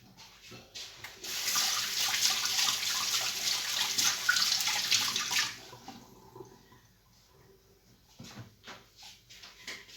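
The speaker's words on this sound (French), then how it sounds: "Je vais me laver les mains." Running tap water gushes while hands are washed, a close splashing rush for several seconds before the flow stops, followed by a few faint drips and handling sounds.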